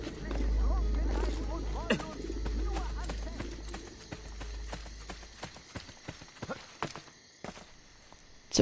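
Horse hooves clip-clop in Assassin's Creed Brotherhood, a steady trot heard under someone speaking German, with game ambience and scattered sharper clicks toward the end.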